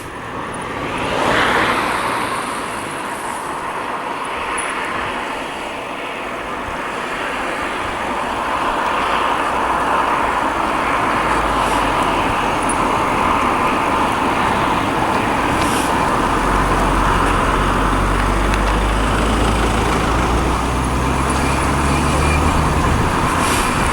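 Car rolling along a road near home and braking on the front pads only, a steady broadband road and engine roar that swells slightly partway through, with no squeal evident.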